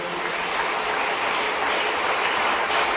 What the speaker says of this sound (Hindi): जोरदार तालियां बजा करके